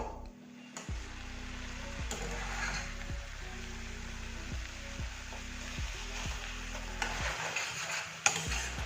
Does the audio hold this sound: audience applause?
no